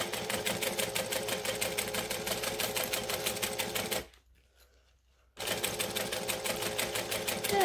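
Sewing machine stitching in a fast, rhythmic mechanical chatter, close and steady, stopping briefly for about a second before running again as a backstitch is sewn; no speech.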